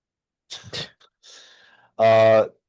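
A few breathy, sharp bursts build up, then a loud, drawn-out vocal sneeze-like blast rings out close to the microphone.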